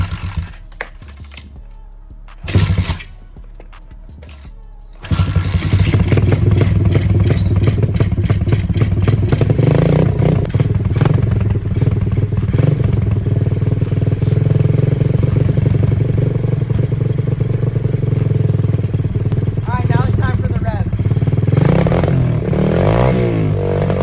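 A Kawasaki 125cc dirt bike engine starts up after a few clunks, then runs loud and close at a steady idle with rattling clatter, rising into revs near the end.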